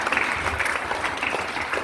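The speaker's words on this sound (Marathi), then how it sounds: "तिच्यासाठी जोरात टाळ्या" Audience clapping steadily at a women's polytechnic college function in Latur, a dense, even patter that fills the short stretch with no voices on top.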